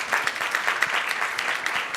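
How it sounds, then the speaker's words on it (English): A round of applause from the audience at a research symposium session, steady dense clapping filling the whole stretch without speech over it. "Let's give her a round of applause."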